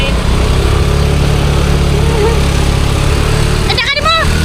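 A motorcycle engine runs in a steady, low, continuous drone, close by and loud, with a brief burst of voices and rising tones near the end.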